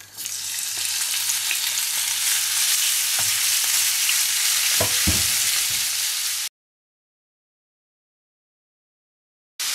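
Chicken pieces hit hot vegetable oil in a pan, giving a loud, steady, hissing sizzle with a few low thumps and clatters near the end, then a sudden cut to silence.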